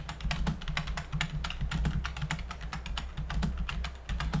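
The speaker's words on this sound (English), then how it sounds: "I'm sorry if the typing's too loud." Steady run of keystrokes on a computer keyboard, quick and continuous clicking heard close up with no talking.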